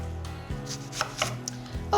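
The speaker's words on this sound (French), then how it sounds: "la première étape, c'est de couper un oignon" An onion chopped on a cutting board, a handful of close, crisp knife thuds at an uneven pace, with a faint voice sound at the very end.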